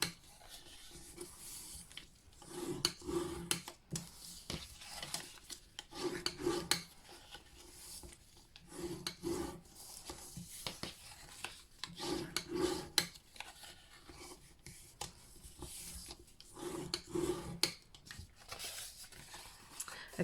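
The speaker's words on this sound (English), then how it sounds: "I'm just going to burnish all these score lines again so that you can see exactly where they are." A tool is rubbed along the score lines of a paper gift box lid, producing soft repeated rasping strokes in short bursts, quiet and close.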